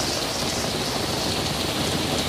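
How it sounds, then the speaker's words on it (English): Heavy rain pours down during a football trip to Portugal, heard from beneath an awning: a dense, loud, unbroken hiss of rainfall that stays steady throughout, with no voices. "I hope the camera's picking this up, how bad this rain is."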